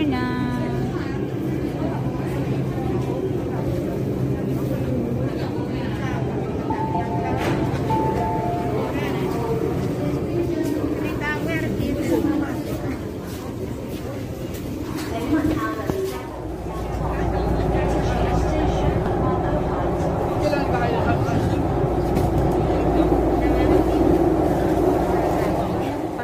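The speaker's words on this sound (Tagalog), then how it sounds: "So the train is arriving." A train pulls into a station in Hong Kong with a rumbling, shifting roar. A deeper low rumble swells in the second half amid crowd noise and occasional voices.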